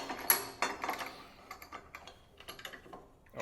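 A newly built bench vise on an RX7 drag car project is tested, giving a run of sharp metallic clicks and taps, loudest at the start and tapering into lighter irregular ticks.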